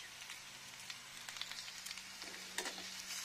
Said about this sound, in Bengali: রসুনটা একটু ফ্রাই হয়ে যাচ্ছে, দেখুন হলুদটা দিয়ে নিলাম